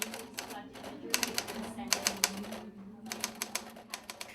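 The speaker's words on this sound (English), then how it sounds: "The afternoon gathering gave fans the opportunity to type on an actual typewriter" Fans try an old manual typewriter at a public type-in gathering, giving bursts of sharp mechanical key strikes in uneven runs, with voices talking in the background.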